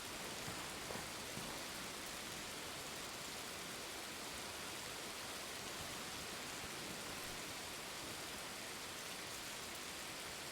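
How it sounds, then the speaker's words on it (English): Steady rain falls in the military shooter game Arma Reforger, a dense, even hiss of drops that holds at a constant level for the whole stretch with no voices over it. "It's raining in the game"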